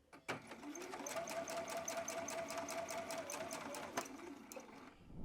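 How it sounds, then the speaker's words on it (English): A sewing machine runs steadily for several seconds, stitching straight down a small fabric casing for a drawstring purse, with a brief pause and restart near the end and no talk. "at the machine here, I am going to just sew straight down this little piece"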